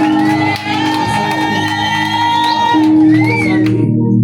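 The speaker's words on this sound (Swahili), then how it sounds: "makofi kwa shangwe" A church congregation cheers and shouts in praise, a loud, lively crowd with whoops and raised voices swelling over music with sustained tones.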